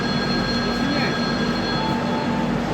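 A train sits at a railway station on the Mumbai to Ahmedabad route, giving a steady, loud rumble with a faint high squeal running underneath and no clear talking.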